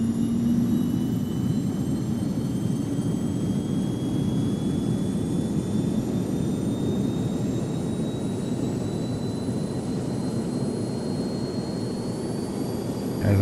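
Turboprop engine of a Black Square King Air in a flight simulator spooling up from low idle, a steady loud roar with rising whine tones climbing slowly throughout.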